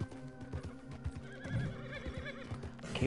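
Horse in Red Dead Redemption 2 gives a wavering whinny over clip-clopping hooves and game background sounds, moderately loud and close.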